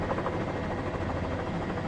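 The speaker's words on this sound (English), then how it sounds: "Sky 5 is the only helicopter live above" A news helicopter flying live over a women's minimum security prison in Oklahoma City, a loud, steady broadband rotor roar with fast pulsing chop, filling the scene without pause.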